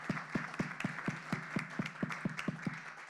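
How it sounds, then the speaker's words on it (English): A thin round of applause for startup founders at an AI ecosystem event in Paris, made up of a few distinct, evenly spaced claps over a faint wash of scattered hands, quiet and somewhat distant. "Ladies and gentlemen, please join me in giving them a round of applause."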